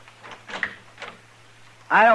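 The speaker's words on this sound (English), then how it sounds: "Open the door, Dillon." An old door in a 1955 radio Western drama creaks open loudly near the end, a short harmonic groan following a few quiet spoken words.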